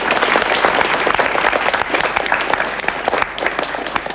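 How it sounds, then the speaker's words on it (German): Loud, dense applause from a sizable audience, many hands clapping continuously for several seconds. "Er kriegt natürlich von euch einen extra Applaus, ne?"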